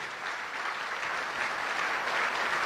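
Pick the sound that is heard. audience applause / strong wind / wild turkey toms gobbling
audience applause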